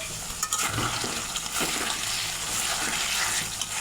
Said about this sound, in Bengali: এই যে দেখুন বন্ধুরা, কতটা তেল বের হয়ে গিয়েছে আর ভালো করে কষানো হয়েছে।